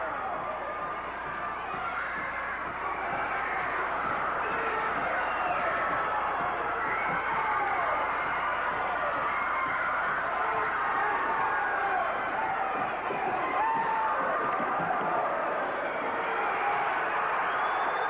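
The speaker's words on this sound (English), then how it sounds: "In ringside, the people past the second row are all standing, applauding the smaller of the two men, El Bracero." Wrestling fans at ringside of a 1980s WWA bout, standing and applauding the smaller wrestler, El Bracero: a steady, dense wash of crowd noise and clapping that holds at an even level throughout, with no distinct voices rising above it.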